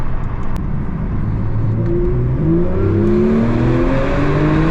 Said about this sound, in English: Oh, this naturally aspirated flat six sounds so good